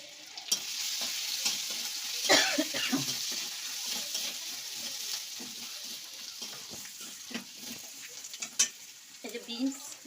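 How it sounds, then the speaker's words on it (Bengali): Soup vegetables with ginger stir-fried in hot oil, a steady close sizzle with repeated scraping stirs of the spatula and occasional clinks, no speech heard. "তেল দিয়ে দিচ্ছি, স্যুপের সবজিটা আমি করে নেব, নেড়ে নেব"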